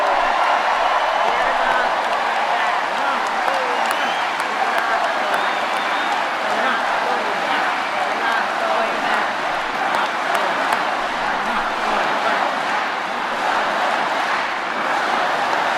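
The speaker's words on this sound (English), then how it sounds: "Listen to the crowd." A large political rally crowd cheers and applauds in a sustained, roaring wash of clapping and shouting that stays loud and steady throughout, with voices mixed into the din.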